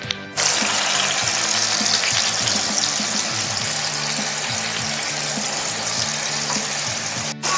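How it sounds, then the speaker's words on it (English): Pork tenderloin sears in clarified butter heated to 360 degrees Fahrenheit, a loud steady sizzle and crackle of frying with scattered pops throughout. "now I'm searing the other side"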